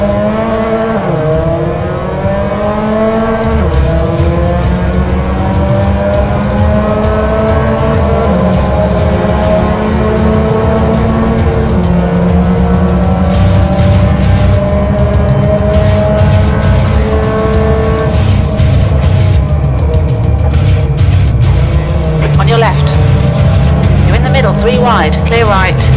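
A race car engine in a racing video game roars and climbs through revs, with steady loud whine and gear shifts throughout, while a voice talks over it and tires squeal near the end.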